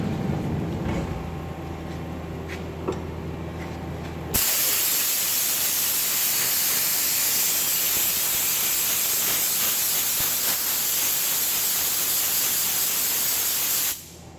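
Compressed air blasts chips off a part on an Okuma lathe, a loud continuous hiss that starts suddenly after a quieter stretch of machine hum and cuts off near the end, with no speech.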